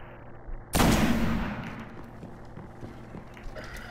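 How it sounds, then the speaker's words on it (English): Assault rifle fire in the video game Destiny: a sudden loud burst of gunfire with a long rolling tail, followed by quieter in-game rumble and scattered small impacts. "I could handle them with just my assault rifle."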